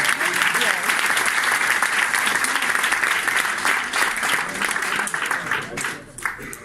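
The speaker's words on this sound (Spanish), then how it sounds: "Clap for them. Give them applause. Vamos a darle un aplauso." An audience at a business event in Barcelona applauds loudly, dense sustained clapping with crowd voices mixed in, tapering slightly near the end.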